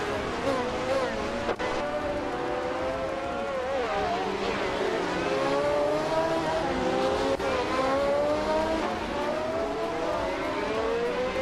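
Formula One cars from a 1971 racing video game roar continuously, several engine notes rising and falling with gear changes as they pass, loud and steady throughout with no pauses.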